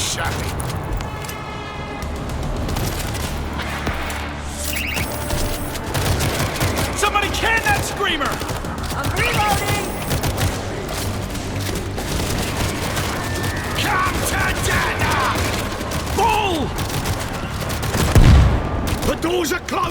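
In the World War Z video game, a mounted machine gun fires in dense, continuous bursts with booms and impacts layered in. The sustained loud fusillade runs under someone talking.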